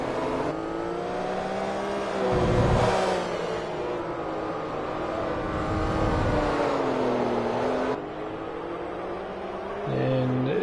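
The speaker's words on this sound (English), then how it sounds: "The Porsche just flying along this section of the track into the very hard braking left-hander here," Porsche GT3 race car in Forza Motorsport, its engine note loud and close as it flies along a track section, revs rising and dropping through gear changes and a deep downshift under hard braking into a left-hander.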